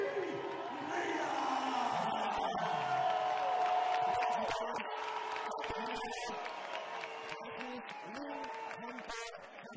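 Arena crowd applauding and cheering at a women's European championship bout in Barbate, Andalucía, Spain, loud, sustained and continuous across the whole stretch, with shouts rising above it and fading slightly toward the end.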